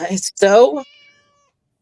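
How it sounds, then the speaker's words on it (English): A cat lets out a loud, close meow that rises and trails off, right after a brief moment of speech. "Seems like we have a cat loose in here."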